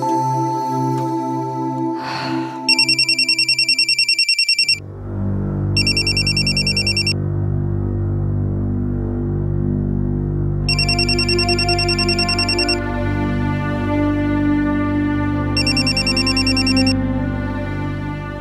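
A telephone rings in a home in short repeated electronic bursts, loud and close, with a steady droning tone underneath between rings.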